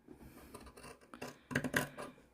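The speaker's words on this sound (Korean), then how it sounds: "잘 드는 가위로" Sharp scissors trim a fabric seam allowance of a blouse back panel during sewing, giving a few quick crisp snips and rasping cuts close by, the last two strongest, with no voices.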